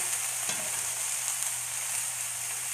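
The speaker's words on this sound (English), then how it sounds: "Going to give everything a good stir, get it all combined nicely there." Spring roll vegetable filling fries on high heat in a pan with a constant bright sizzle, while a utensil stirs it with soft scrapes and taps.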